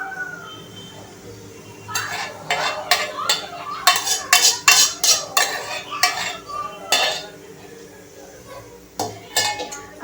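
A spoon scrapes and taps against a plate while spreading tempering over khaman dhokla. Close, crisp clinks and scrapes come in a busy cluster through the middle, then a few more near the end, with no talking.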